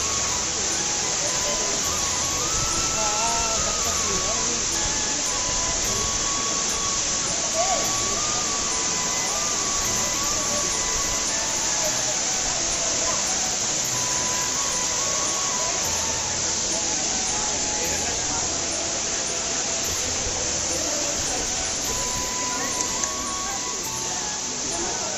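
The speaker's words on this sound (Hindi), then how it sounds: "ये रहा आपका रानी झरना" Rani Jharna, a tall waterfall in Korba, pours with a constant broadband rushing hiss, heard close and loud without a pause, with faint murmurs of people beneath the roar.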